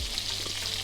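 Butter foaming and browning in a pan with torn sage leaves, a steady close crackling sizzle that runs throughout without a break.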